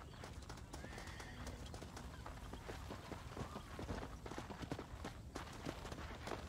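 Horses clip-clop at a steady gait and neigh in the video game Red Dead Redemption, the hoofbeats quick and even, heard quietly without talk.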